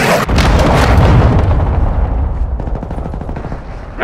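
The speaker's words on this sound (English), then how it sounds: "Friendly cruise missile inbound." A cruise missile strike and gunfire in Call of Duty: Modern Warfare II, on the Santa Seña Border Crossing map, roar as loud, dense, continuous booming and rattling blasts.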